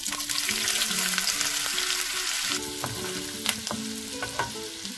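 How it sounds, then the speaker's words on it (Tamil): Dried prawns frying in hot oil, a steady loud sizzle with intermittent stirring clatters and scrapes, close up with no talking. "ஃபர்ஸ்ட் இந்த ப்ரான்ஸை அந்த எண்ணெயில் போட்டுக்கிறேன்."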